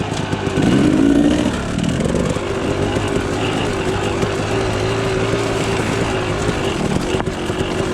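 A Kawasaki KDX 250 two-stroke dirt bike engine drones loudly and up close on a ride, swelling in a rev near the start before settling into a steady, buzzing run.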